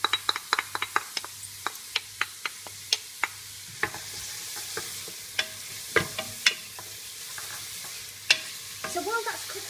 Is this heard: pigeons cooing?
no